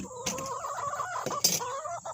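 Backyard chickens clucking up close, several overlapping throaty calls along with a few sharp bursts of noise.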